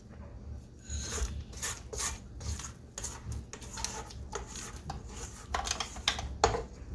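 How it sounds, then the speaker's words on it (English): A spatula scrapes creamy cheesecake batter down the sides of a mixing bowl, a series of soft rasping strokes and light scuffs at close range, fairly quiet with no speech. "I'm going to just scrape it down a little bit"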